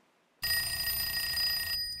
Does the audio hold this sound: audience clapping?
no